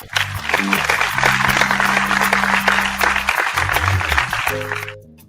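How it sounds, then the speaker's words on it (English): A brief round of clapping on a beer-tasting show, a few people applauding close by in quick, crisp claps over a low tonal background hum that fades out at the end. "A little round of applause."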